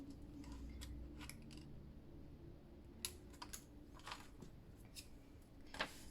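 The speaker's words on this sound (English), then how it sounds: "I'm cutting on the inside of that score line." Scissors snipping white cardstock along a score line while making a forest-themed paper mini album, a series of short, crisp cutting snips spaced irregularly over a steady low background hum, close and quiet.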